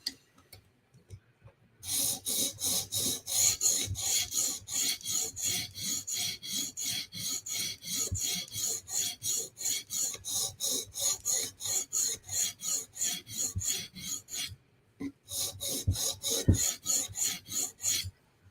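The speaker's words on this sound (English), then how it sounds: "Now we're jumping on our 400 grit stone." A knife blade scrapes rhythmically across a 400 grit sharpening stone on a TSProf Kadet guided system, steady close strokes in a long run, a brief pause, then more passes.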